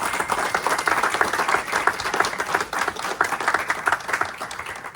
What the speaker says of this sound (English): A round of applause for Brother Orlando.